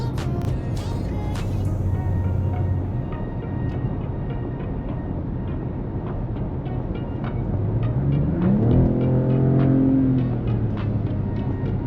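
A 2026 Dodge Charger Scat Pack Six Pack drones along at a steady engine hum, then the engine note climbs sharply as it accelerates under turbo boost before settling, heard from inside with no talking.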